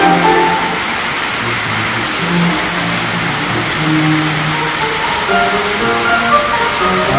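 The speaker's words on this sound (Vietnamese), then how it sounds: "Bắt đầu mưa lại đó." Rain starts up again over a flooded street in Phan Thiết, a steady loud wash of falling water with low vehicle noise in the background.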